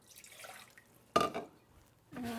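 Water poured into a vessel for a vinegar pickling brine for pickled beans, a short splashing gush after a quiet stretch, then a second softer pour near the end.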